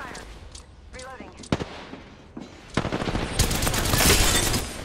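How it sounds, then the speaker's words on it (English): Gunfire in the battle royale shooter Apex Legends: scattered sharp shots at first, then sustained rapid automatic bursts that grow loud and dense, with a voice speaking over the action. "Opening fire."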